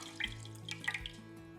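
A thick rice and chicken mixture slides and drips from a bowl into a casserole dish, a few short wet plops and splats heard close up over a low steady hum.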